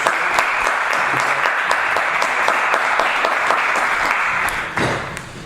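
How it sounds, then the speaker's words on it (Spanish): Audience applause at a Hungarian embassy event, a dense steady burst of many hands clapping close by, tapering off toward the end. "Muy bien, pues le damos un aplauso."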